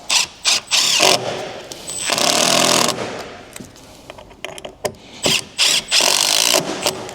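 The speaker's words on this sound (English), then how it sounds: "Whack some screws in." A power driver sinks screws into a wooden batten inside a campervan build, giving short loud whirring bursts separated by pauses, close up.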